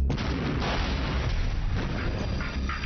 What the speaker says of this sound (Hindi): मेरी मसालेदार बम का कमाल देखो।